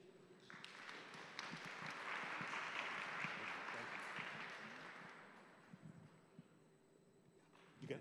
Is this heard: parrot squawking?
no